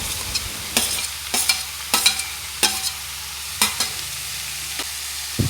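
Chopped onion, radish and radish greens fry in a hot pan while a utensil stirs them. Sharp scraping strokes arrive every second or so over a soft, steady sizzle, close and clear, with no talking.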